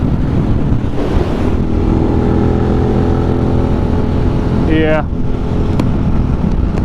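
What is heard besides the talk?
Suzuki SV650 motorcycle riding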